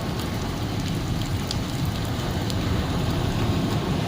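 Heavy rain mixed with hail falls in Kutch, a dense, steady roar of drops hammering surfaces with occasional sharper ticks, continuous and loud throughout with no voices.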